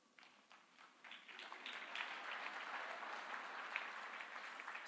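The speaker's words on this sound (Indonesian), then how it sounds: "Kalau mau tepuk tangan biar kompak, biar mantap." A church congregation breaks into applause, clapping building from scattered claps to a dense, sustained roar of many hands in a large room.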